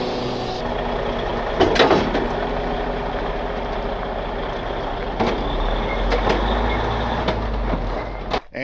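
A truck pulling away from beneath a Tru Hitch trailer after the hydraulics and PTO are shut off, with a steady low engine rumble, a couple of louder clunks and air bursts, and no talking.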